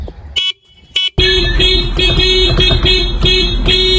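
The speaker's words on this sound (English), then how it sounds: "here's what it looks like after you put the 6-speed horn, and this is what it sounds like" Aftermarket Hella horn fitted to a 2018 Honda Accord, two short loud blasts followed by one long sustained honk, close and dominant with a strong steady tone.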